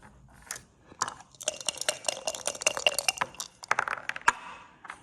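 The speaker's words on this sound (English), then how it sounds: "It takes the dice rolls and dampens the noise" Dice tumbling across a cork backgammon board on a white-label Crisloid tabletop set, a run of soft, damped clicks and rattles with a few sharper taps, close up and alone.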